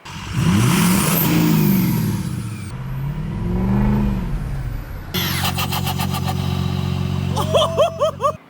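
A 2006 pickup with a 6.0-liter turbo diesel revs hard and repeatedly, the loud engine rising and falling through sustained roaring swells with sharp spikes near the end, no talk.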